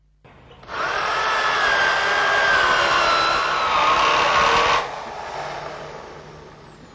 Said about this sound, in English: I'm drilling some holes to represent negative numbers.